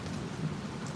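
Steady rain pours during a storm at a swimming pool, a dense close hiss with a low rumble of thunder underneath, brief and without voices.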